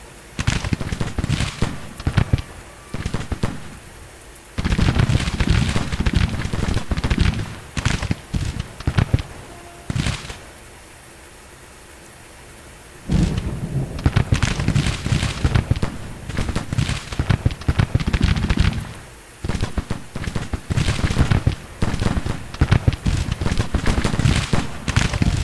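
Grand Tactician: Civil War battle gunfire, dense crackling volleys and rapid bursts of shots in long sustained stretches, broken by brief lulls, loud and continuous without talk.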